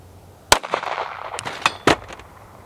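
A gunshot, a step up in power from a .380, is fired at improvised grocery-store body armor. One sharp, loud crack is followed by clattering impact noise and a second sharp report a moment later.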